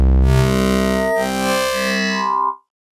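Reason Europa software synthesizer playing a Morpher wavetable with its shape control pushed up: a dense, buzzy, harmonically rich tone that shifts and warps for about two and a half seconds, then cuts off into silence.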